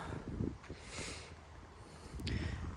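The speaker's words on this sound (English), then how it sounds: "Now it's dead windy because we're on a hill" Wind buffets the microphone in rumbling low gusts on an open hilltop at a cemetery, steady and fairly loud, with a couple of brief brighter rustles.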